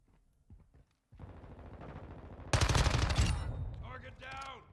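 A submachine gun fires in Call of Duty: Modern Warfare II multiplayer: after a few quiet taps and movement, a long rapid burst rattles out loud and close, then tails off, followed by brief game voice chatter.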